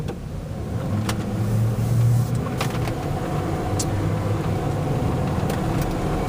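Cabin of a 1994 Ford F-150 XLT 4x4 driving with the windows up: a steady low engine and road drone with faint rattles and clicks, fairly quiet and even, no talking.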